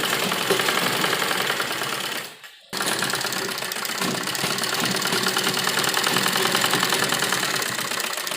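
A sewing machine runs steadily while stitching the folded side slit of a cotton kurta, a fast mechanical whir with a brief pause near the middle before resuming continuously, close and fairly loud.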